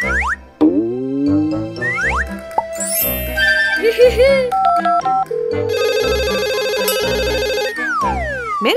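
A toy phone plays a playful electronic ringtone of sliding, bouncing tones and cartoonish boings, ending in a sustained buzzy ring, with a voice faintly mixed in.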